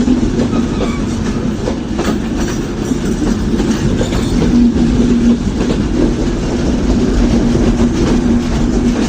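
Chitra Express, a Khulna-to-Dhaka passenger train with AC and regular coaches, rolls steadily through a station with continuous loud rumble and rhythmic clickety-clack of wheels on rails, close by and unbroken throughout.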